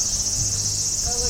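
Cicadas in Kawagoe, Japan, keep up a steady, loud, high buzzing drone for the whole stretch, with faint street sounds and a brief soft tone near the end.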